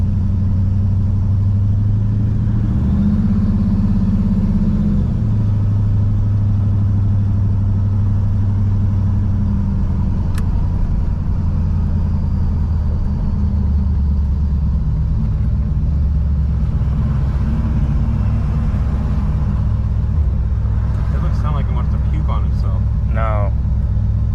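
A 1987 Chevrolet Monte Carlo SS converted to EFI idles slightly high, giving a steady, loud, close low rumble that continues without a break.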